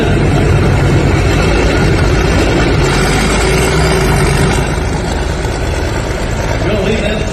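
A pulling tractor engine roars loudly and steadily at a tractor pull in Highland, Wisconsin, a dense low-heavy drone throughout with an announcer talking over it.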